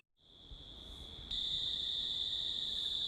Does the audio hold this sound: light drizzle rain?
no